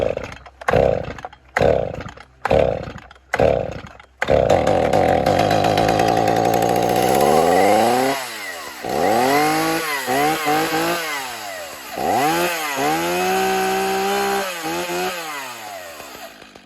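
Stihl MS310 chainsaw engine, nearby and loud: a few short sputtering bursts at first, then it catches and runs continuously, with repeated revving up and down in pitch.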